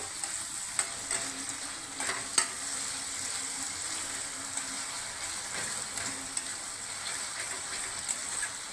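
Spice masala stirred and frying in a pan over medium heat for Bengali katla fish curry, a soft continuous sizzle with faint scraping strokes throughout, fairly quiet and with no talking.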